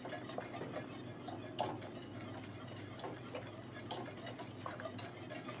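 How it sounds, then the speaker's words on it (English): A spoon stirs Jamaican peanut porridge in a pot on a low stove, giving soft, steady scraping and occasional light clinks against the pot under a constant background hum. "You want to stir constantly."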